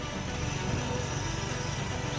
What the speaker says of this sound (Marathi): या पॉवर विडरच्या मदतीने आपण आपल्या शेतातील तण काढू शकतो